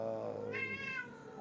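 A pet cat gives a single quiet meow in the middle of a low background hum, short and rising before it trails off, with no voices.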